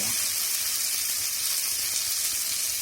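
Spices and garam masala sizzling in hot oil for a curry, a bright continuous hissing crackle that stays close and even for the whole stretch.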